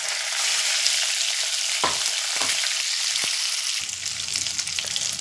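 Ground masala paste hits hot oil with curry leaves after cumin and asafoetida, giving a steady close sizzle with a few sharp crackles and pops, then a softer, lower frying hiss toward the end.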